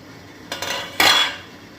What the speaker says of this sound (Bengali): আমি ঢাকনাটা খুলে এবার দেখে নেব।